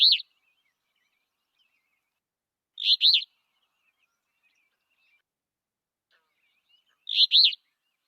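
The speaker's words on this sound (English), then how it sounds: "This is the song of the alder flycatcher." Alder flycatcher song: three short, buzzy, high-pitched phrases spaced several seconds apart, clear and isolated against silence.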